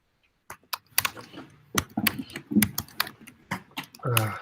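Someone types on a computer keyboard, a quick irregular run of close, crisp key clicks with short pauses, ending in a louder clatter.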